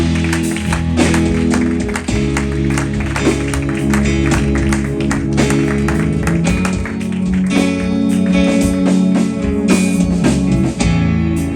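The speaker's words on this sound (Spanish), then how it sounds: "Le damos un fuerte aplauso al Señor." A church congregation claps for the Lord during a Sunday service, loud, sustained, dense applause blended with music and voices throughout.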